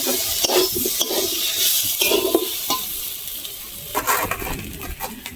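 Cucumber, potato and prawns with spices being sautéed in a pan, with a steady background sizzle under repeated close scraping and stirring strokes of a spatula, no talking.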